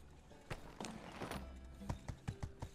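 Horse hooves clip-clop in the video game My Time at Sandrock, a run of uneven, moderately loud hoofbeats over a busy game soundscape with soft background tones.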